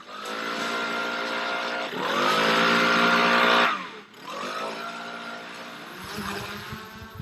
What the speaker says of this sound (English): A handful of men carving control lines and putting out brush fires with a leaf blower.